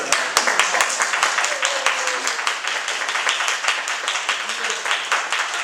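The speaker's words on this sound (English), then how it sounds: "How about a round of applause for our lovely piano player?" An audience claps for a piano player, a brisk, fairly close round of applause with a few sharp individual claps standing out, and some faint talk underneath.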